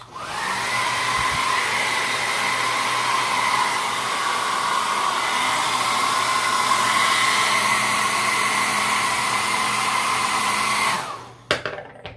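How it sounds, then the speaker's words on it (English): A hair dryer blows loudly and steadily on a beard for several seconds, then switches off abruptly, followed by a few brief handling noises. "You'll know if you put the hairdryer too close."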